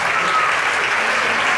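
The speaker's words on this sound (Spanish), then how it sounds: "Un fuerte aplauso." Steady applause from an audience at a graduation ceremony for five-year-old children, a dense, even patter of clapping filling the whole stretch at moderate loudness.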